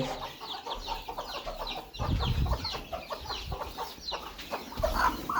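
Chickens cluck steadily in a farmyard during morning chores, several birds overlapping at close to mid distance with no voices over them.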